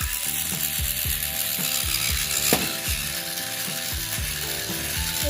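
The gear system of a DIY electric tumbling robot toy ratcheting close up: a loud, fast, regular clicking of plastic gears running continuously throughout, with a single sharper clack in the middle and no voices.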